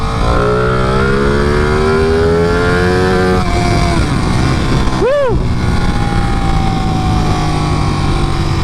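Ducati Panigale 959 motorcycle in race mode with electronic throttle, engine revving hard up to the rev limiter then dropping sharply, a loud continuous engine roar with rising and falling pitch sweeps.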